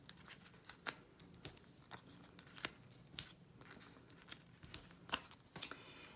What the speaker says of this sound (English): I'm going to use foam adhesive to pop up this panel off the card base